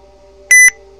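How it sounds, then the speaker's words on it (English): A mobile phone gives a notification alert: two short, bright electronic beeps in quick succession, fairly loud and alone over a faint steady background hum. "That was my phone."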